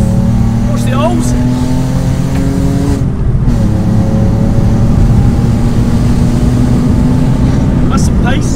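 Alfa Romeo 147 GTA with its Busso V6 engine droning loudly under steady driving from inside the cabin, with a brief gear change partway and people talking over the engine.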